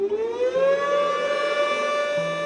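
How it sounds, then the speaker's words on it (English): An air raid siren in China howls steadily in remembrance, its wailing tone rising slightly and holding, loud and sustained with no voices. "Air raid sirens howl to remember around 200 people"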